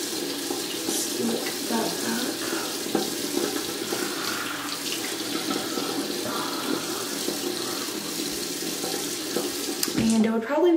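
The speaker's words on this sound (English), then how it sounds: "I'm gonna go ahead and wet my face really quick" A bathroom tap runs steadily while someone splashes water to wet their face, a continuous close rush of water with small splashes throughout and a louder clatter at the end.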